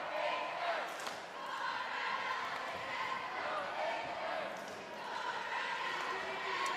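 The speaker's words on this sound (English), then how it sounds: "So we're only getting crowd noise." Steady crowd murmur and shouting fill a high school boys basketball gym during Leavitt versus Falmouth, a constant roar with faint thumps and swells that runs loud throughout the whole stretch.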